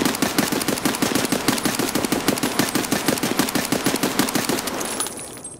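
Rapid sustained automatic rifle fire from a 30-round magazine in Escape from Tarkov, shot at a wall: loud, evenly spaced bursts of shots in a steady rhythm that cuts off near the end.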